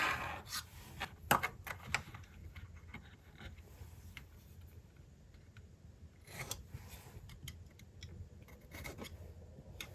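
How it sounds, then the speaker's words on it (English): Scissors snip the inside corners of a handmade cardboard gift box, cutting a 45-degree corner detail: close, crisp clicks and short cuts in irregular bursts, with no talk. "Position on the inside corner here, cut this way, position here, cut that way."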